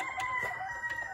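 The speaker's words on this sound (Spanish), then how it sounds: "Mi Mechas, mire, mire, todas las gallinas ahí al pie, nadie pelea con nadie" Backyard chickens and a rooster make soft clucks and short calls, fairly close but quiet, with a steady high tone running underneath throughout the brief moment.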